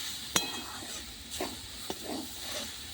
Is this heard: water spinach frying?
yes